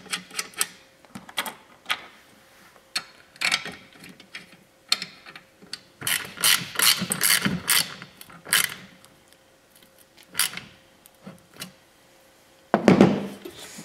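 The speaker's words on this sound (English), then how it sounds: "we're going to take the jack and we're going to assemble it onto this frame with the four M8 by 20 bolts" Metal M8 bolts are fitted and tightened as a jack is mounted onto a frame, giving close, intermittent bursts of clicking, ratcheting and clattering hardware with short quiet gaps between them.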